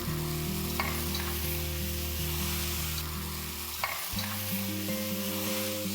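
Chopped tomatoes sizzle and fry steadily in a pan of chicken and potato curry while a utensil stirs them, with scraping strokes over a continuous close, loud sizzle and no talking.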